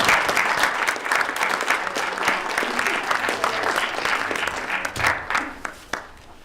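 A keynote audience applauds to welcome a city mayor as speaker, a steady wash of many clapping hands that swells and then slowly thins out toward the end.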